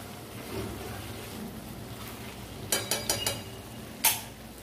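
Chicken frying in ghee in a pan gives a steady, low sizzling hiss, broken near the end by a few quick clinks and scrapes of a utensil against the pan.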